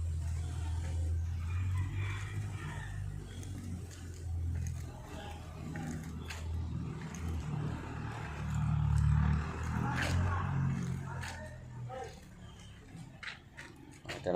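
A truck engine on a farm rumbles low and steady at close range, swelling briefly midway, with people talking over it.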